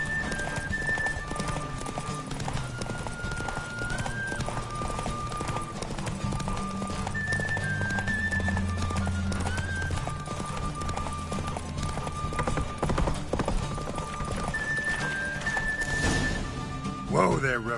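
Geralt's horse Roach galloping in The Witcher 3, a fast, continuous clatter of hooves under music, with voices talking over it.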